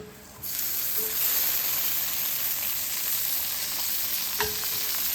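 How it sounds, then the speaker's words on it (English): Bacon grease frying in a pan, starting with a sudden steady loud sizzle and hiss that holds evenly throughout, with a faint clink near the end. "Get ourselves a little bacon grease going in there."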